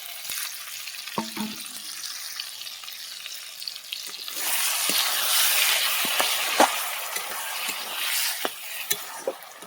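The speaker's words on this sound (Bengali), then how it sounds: "মশলার গা থেকে তেলটা ছেড়ে গিয়েছে, দিয়ে দেবো মোষের মাংসটা" Buffalo meat hits hot spiced oil in a pan: after a quiet start with a few clinks, a loud, steady sizzle and crackle takes over, broken by stirring clatter.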